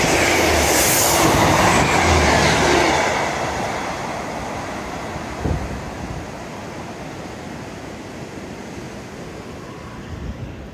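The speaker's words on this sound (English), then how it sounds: "Modern day train, yay!" A modern train passes near a tunnel at Holcombe, a loud broadband rushing roar that fades gradually into a quieter distant rumble, with no talking.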